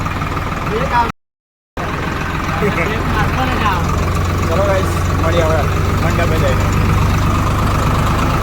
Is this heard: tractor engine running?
yes